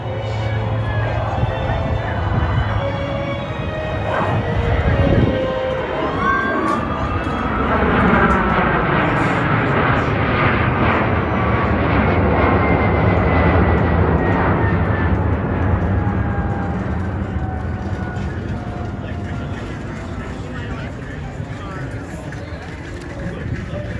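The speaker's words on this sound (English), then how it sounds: "a maximum rate climb, 25 degrees, nose up, maximum performance over your head. Ladies and gentlemen, the Boeing 777 United Airlines." A United Airlines Boeing 777 makes a steep maximum-performance climb at a Fleet Week air show, its broad jet roar swelling and sweeping past overhead at close range amid crowd noise and an announcer's voice.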